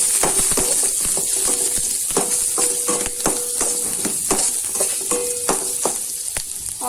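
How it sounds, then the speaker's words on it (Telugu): Small chopped onions frying in a pan for restaurant-style Schezwan fried rice, giving a loud, continuous close sizzle punctuated by repeated clicks of a stirring spatula. "ఆనియన్స్ కాస్త ఫ్రై అవ్వాలి."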